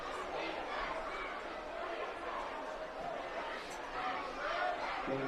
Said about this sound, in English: I can hear the crowd talking and eating and having that kind vibes